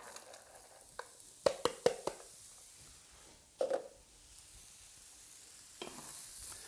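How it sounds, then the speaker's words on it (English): A mirepoix of diced leeks, celery and carrots hitting a hot pan for a chicken gumbo, with a quiet sizzle broken by a cluster of sharp utensil knocks and scrapes, then another burst of stirring, close and without talk. "now straight in with your mirepoix. I've got some leeks, some celery and some carrots in there"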